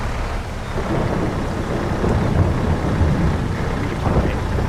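Steady rain in the video game Farming Simulator 22 hisses and patters throughout, with a low rumble underneath, dense and close with no voices.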